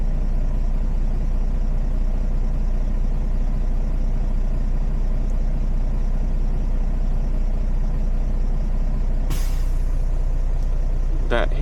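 A truck air brake system gives a short sharp hiss at governor cutoff, cutting through the steady loud rumble of the idling engine near the end.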